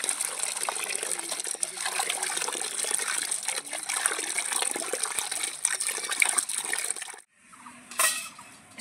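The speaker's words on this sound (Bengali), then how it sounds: "এখানে কলে জল পড়ছে, এই জলে আমি ভালো করে 2-3 বার করে ধুয়ে নেব।" Tap water running steadily as fenugreek leaves are washed, a close, moderate gushing stream that stops abruptly near the end, followed by a short splash.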